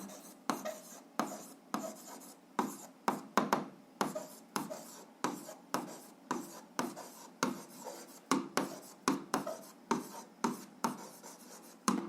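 A pen scratches out an algebra formula on paper in a rapid series of short strokes and taps, close and dry, with brief pauses between marks.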